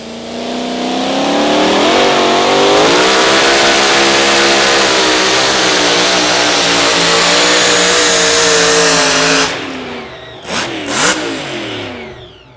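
A two-wheel-drive pulling tractor's loud engine revs hard at an outlaw tractor pull and holds a roaring, rising pitch for several seconds, then cuts back with a few sputtering bursts.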